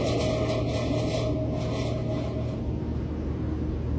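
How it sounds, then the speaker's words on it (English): Scratching inside storage containers: a steady, continuous rasping and rubbing that holds at an even loudness throughout, with no voices. "he begins to hear scratching sounds coming from the containers"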